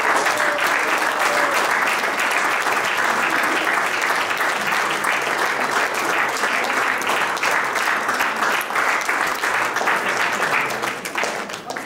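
Steady, sustained audience applause at an award ceremony for a runner-up in a children's 5 to 11 age category, a dense wash of many hands clapping close and loud throughout without pause.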